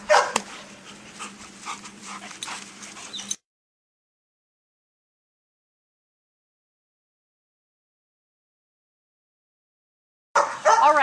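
A dog barks in quick, close, loud bursts during canine candidate testing as a helper engages it with a toy. Then a long silence, and the barking and whining return at the end.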